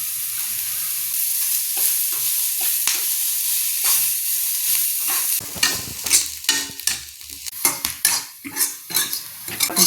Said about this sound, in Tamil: 1 கரண்டி தேங்காய் ஊற்றி இப்படி வறுத்துக்குவோம்.